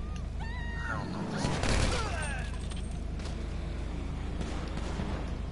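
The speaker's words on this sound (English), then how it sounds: "I hear gunshots" A burst of distant gunfire crackles in the middle of a noisy Grand Theft Auto V game scene, with a low boom and faint voices around it.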